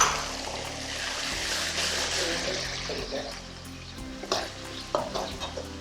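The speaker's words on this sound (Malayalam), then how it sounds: "ഇനി ഇതിലേക്ക് നമ്മൾ ഓൾറെഡി മാരിനേറ്റ് ചെയ്ത് വെച്ചേക്കുന്ന ചിക്കൻ ഇതിനകത്തേക്ക് ആഡ് ചെയ്യാം." Marinated chicken with tomato and soy sauce fries in a pan for Schezwan chicken fried rice, a loud, steady sizzle with stirring clatter that grows more intermittent toward the end.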